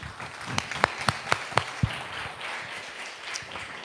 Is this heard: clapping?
yes